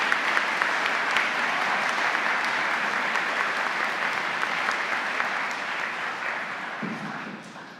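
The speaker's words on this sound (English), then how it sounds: "If we could give them a round of applause for the support of the program." Steady applause from an audience at a Maine teacher of the year ceremony, honoring education program staff, a dense sustained wash of clapping that holds evenly for several seconds before thinning slightly at the end.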